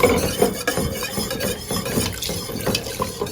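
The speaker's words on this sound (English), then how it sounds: "It helps to whisk out those lumps." A whisk working through a macaroni pie mixture with warm milk to break up lumps, making rapid repeated scraping and tapping against the bowl, close and continuous with no talk.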